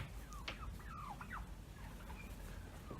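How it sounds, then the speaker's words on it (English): Bronze turkeys on a farm gobble and call in a few short warbling bursts, faint and somewhat distant over a low steady background rumble. "here they are, 15 bronze turkeys"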